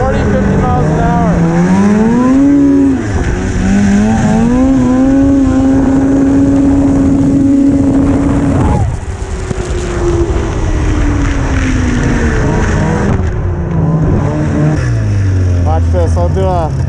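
A 1998 Arctic Cat snowmobile engine runs steadily at about 40 to 50 mph, a loud, continuous droning whine that rises and falls in pitch with throttle changes, close by, with a voice talking over it.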